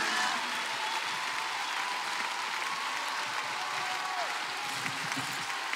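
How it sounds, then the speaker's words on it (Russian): Audience applause at a pop concert in Crocus City Hall, a dense, steady wash of clapping from a large crowd, continuous and fairly even throughout. "Громкие овации."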